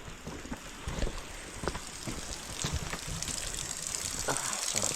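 Water gushing steadily from a tank on a farm path, a continuous splashing flow that builds slightly toward the end with no talk over it.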